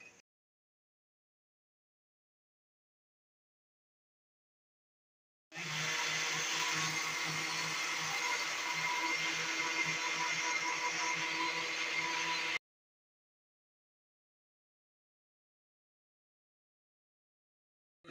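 An electric grinder whirs through cooked Shahi Haleem ingredients, starting abruptly, holding a loud, steady motor whine with a gritty churning texture for about seven seconds, then cutting off into silence.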